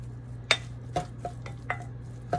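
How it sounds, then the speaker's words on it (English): A spoon clinks and scrapes against a bowl while vegan meatloaf ingredients are mixed, in about six irregular strikes over a low steady hum, close by and with no talking. "Mix it all together."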